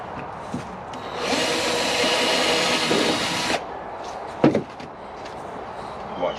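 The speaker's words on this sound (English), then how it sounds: "Go ahead and drill your other hole." A power drill whirs steadily for about two seconds while boring into material, followed by a few knocks and clatters.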